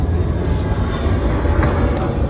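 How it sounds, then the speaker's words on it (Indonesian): An airplane passes overhead above an old Dutch colonial house in central Semarang, heard as a steady, loud broadband rumble that holds throughout without pause. "Ada pesawat."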